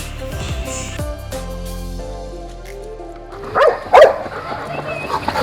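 Near the end a dog at a petting zoo gives a couple of sharp, loud barks at birds after a stretch of quieter background noise.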